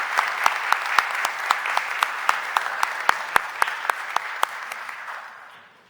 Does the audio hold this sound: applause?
yes